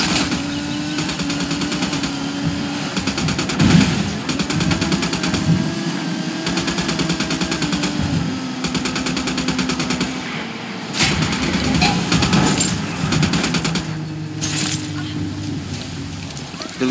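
Gunfire in the video game Ghost Recon Wildlands, rapid automatic bursts and shots layered over engine noise and game sound, with voices talking throughout.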